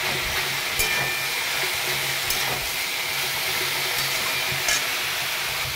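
Food is stirred in a pan over a high flame, making a steady loud sizzle and hiss, with a few scraping strokes of the spoon and no voices.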